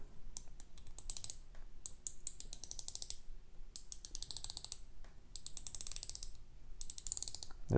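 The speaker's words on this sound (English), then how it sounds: "We'll take a listen to the bezel action." The bezel of a TEVISE automatic watch is turned in bursts, each giving a rapid run of small crisp ratcheting clicks, close and quiet, with short pauses between turns.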